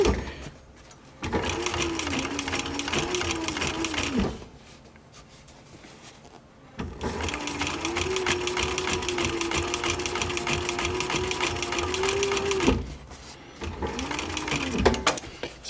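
Sewing machine stitching fabric for a military patrol cap, three steady whirring runs of a few seconds each separated by quiet pauses, close and alone.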